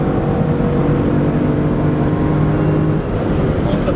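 A heavy car's engine pulls hard at high speed, near 180 km/h, heard from inside. A steady, droning, harmonic engine note runs continuously without a break.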